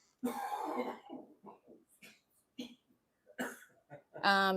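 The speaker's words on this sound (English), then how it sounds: "It was like I had kind of a cough, but then I tried to hold it in" Short, muffled coughing bursts, stifled and broken into small puffs, with brief pauses between them and a sharper throaty sound at the end.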